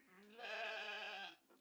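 A single goat bleat, a loud wavering cry lasting about a second, heard alone at close range.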